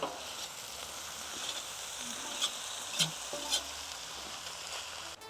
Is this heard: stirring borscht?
yes